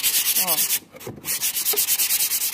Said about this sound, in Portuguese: É uma lixadinha de leve mesmo.